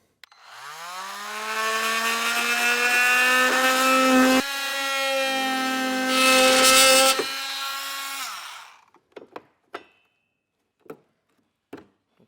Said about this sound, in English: we'll use a multi-tool in order to do that